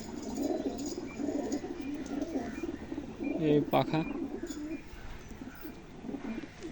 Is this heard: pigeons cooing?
yes